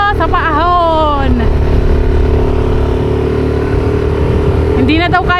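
A motorcycle engine strains loudly up a steep uphill slope, droning with a sustained laboring tone and wavering pitch that sweeps down early on and climbs again near the end, close and continuous throughout.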